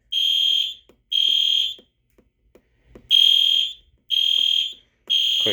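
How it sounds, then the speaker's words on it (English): Two fire alarm horn strobes sound during a test, giving loud, piercing horn blasts in a regular on-off pattern of five bursts with short silent gaps between them. "I just have two horn strobes, this one and that one there."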